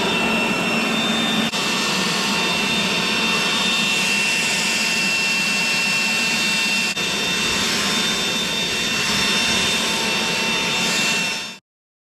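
A leaf blower roars steadily and loudly while clearing debris off a roof before solar modules go up at a mountain retreat in Fairmont Hot Springs, BC, holding one constant whine before cutting off abruptly.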